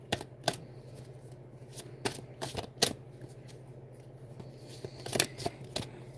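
Tarot cards shuffled in several quick riffling bursts with pauses between, close and fairly quiet over a steady low hum, no talking.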